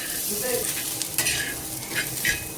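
Onion, ginger and garlic sautéing in a pan, with a continuous close hiss of frying broken by a few soft spatula scrapes and stirs, and no voices.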